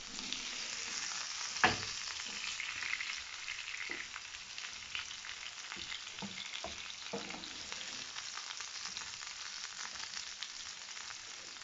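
Boiled red potatoes sautéing in butter and garlic in a pan, a soft continuous sizzle with a spoon scraping and stirring at intervals, including one sharper knock early on; no speech.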